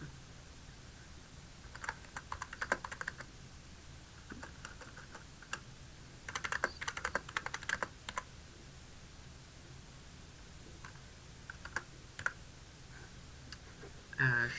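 Bursts of typing on a computer keyboard, soft clustered key clicks in several short runs with pauses between, quiet and close in an otherwise hushed room.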